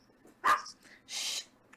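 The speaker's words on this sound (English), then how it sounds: "that rat dog's still going off" A small rat-type dog barks a couple of times at middle distance, short sharp yaps separated by a brief pause, fairly faint with no talking over them.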